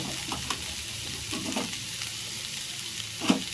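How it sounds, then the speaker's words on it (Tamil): Fish masala fries steadily in a pan with a soft, even sizzle, broken by occasional scrapes of a spoon stirring and one sharper clink near the end; no voices are heard. "இதை கிட்டேருந்து நல்லா ஃப்ரை பண்ணிகிட்டே இருக்கணும்"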